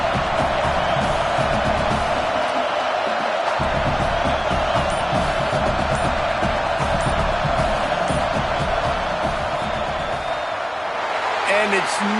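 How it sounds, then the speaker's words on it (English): A football stadium crowd roaring before a field goal attempt, a sustained dense wall of cheering and noise that holds for the whole stretch, with a commentator talking over it. "This crowd trying to do its part to get inside the kicker's head."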